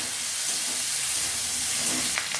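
Masala of ginger, garlic, onion, chopped tomato and coriander frying in a pan, giving a steady close hiss and sizzle with a few brief crackles near the end.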